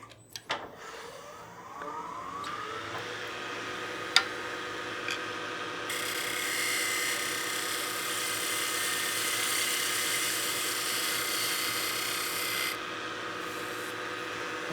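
A lathe hums steadily as sandpaper rubs against a spinning wooden snowman oil candle, a continuous rasping hiss that swells and fades, with a few sharp clicks early on.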